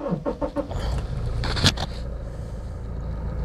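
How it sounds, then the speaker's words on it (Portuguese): Toyota SW4 SUV engine starting after a button press, a few quick cranking pulses then a sharp catch and a smooth, steady idle hum close by. "Deixa eu mostrar para vocês a partida da SW4, como é que é."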